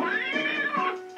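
A cat meows in the Nintendo 64 game Paperboy, one long drawn-out meow with a wavering pitch that is loud and close, heard on its own without talk.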